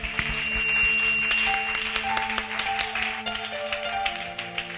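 A church congregation claps and cheers during worship, a moderately loud patter of many hands with scattered sharp claps over sustained musical tones and a few voices.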